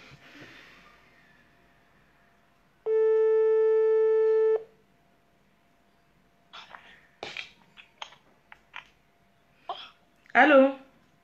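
A telephone call placed during a live broadcast gives one steady, loud tone of about two seconds, like a line signal, with brief breathy noises before it and short bursts of voice afterward.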